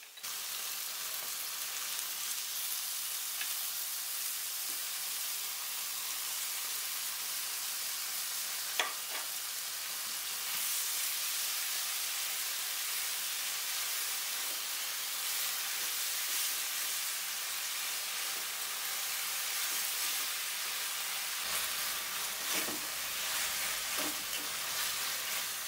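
Mushrooms frying in a spicy gravy of tomato sauce, red chilli sauce, soy sauce, Kashmiri chilli powder, peri peri spice, black pepper and salt give a steady, close sizzle with soft stirring scrapes throughout, without speech.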